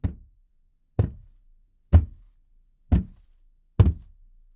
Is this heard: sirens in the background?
no